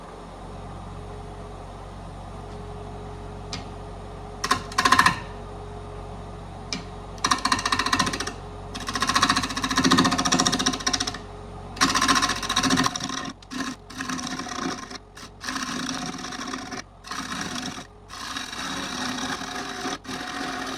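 Wood lathe turning a wooden bowl as the gouge flattens its top surface, giving bursts of scraping, rasping cuts that come and go over a steady motor hum, loud and close, with brief pauses between passes.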